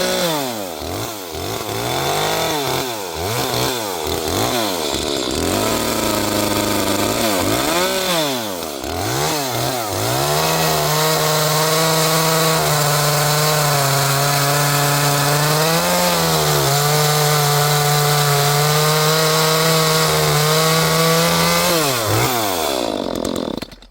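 An Echo 310 chainsaw cuts a beech log, its engine first revving up and down in repeated sweeps, then holding a loud, steady high whine as it bites through the wood, close up and without talk.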